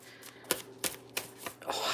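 A deck of tarot cards being shuffled by hand: a few sharp, crisp snaps of cards spaced about a third of a second apart, ending in a brief riffling rush, close and alone.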